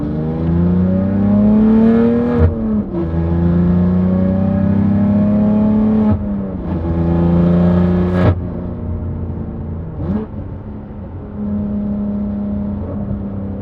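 A BMW F80 M3 fitted with ARM downpipes and a Valvetronic Designs exhaust, valve closed, runs a steady, fairly subdued engine drone that rises and dips through several shifts, heard close and alone.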